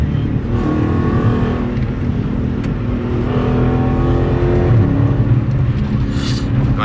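Dodge Challenger SRT 392 cruising on a highway, its engine drone and whine steady and loud from inside the cabin, with road roar underneath throughout.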